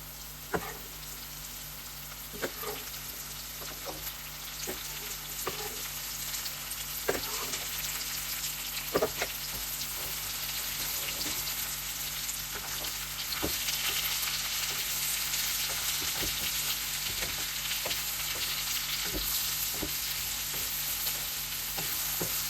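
Onions and other vegetables sizzle with potatoes in a pan for fully loaded homemade hash browns, a steady, moderate frying hiss broken by occasional pops and stirring scrapes, with no talk.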